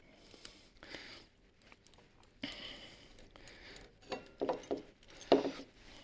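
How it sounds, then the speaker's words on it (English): Allen key bolts being undone on a Suzuki M109R motorcycle brake caliper, heard as quiet scattered metallic clicks, ratcheting and rubbing, with a few sharper ticks near the end. "we're going to remove these 2 Allen key bolts that we undid earlier"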